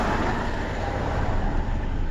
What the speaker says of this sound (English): there's a car pulling up.